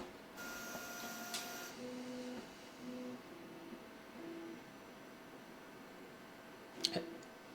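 Sovol SV08 3D printer homing its axes: a low motor hum with short stepped tonal whines from the steppers, then a brief sharper buzz near the end, heard fairly quietly with no talk.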